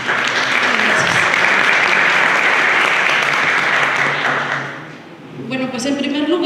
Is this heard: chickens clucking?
no